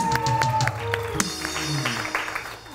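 Applause from a morning TV show's studio audience continues under music, a soft wash of clapping with a few sharper claps early, fading as the music carries on.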